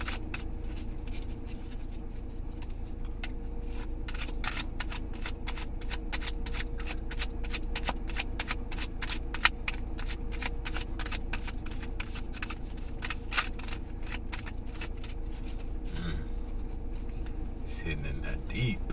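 Playing cards are shuffled continuously, a long run of rapid crisp riffles and snaps close by at a steady rhythm, with a voice talking quietly underneath.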